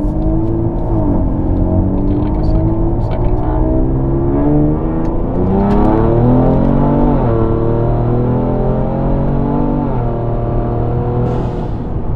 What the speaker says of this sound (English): we're gonna show you just how quickly this touring car accelerates.